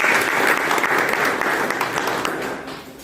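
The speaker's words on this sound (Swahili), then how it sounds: "Si tupige gavana makofi." A crowd claps steadily for the governor at a Mother's Day church fundraiser in Lugari, dense applause holding strong before tapering slightly at the end.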